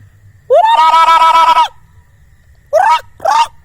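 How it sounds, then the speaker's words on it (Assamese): A duck calls loudly up close: one long, wavering honk, a pause, then two short, quick calls. "এইটো হাঁহ আনিছোঁ আকৌ দেই"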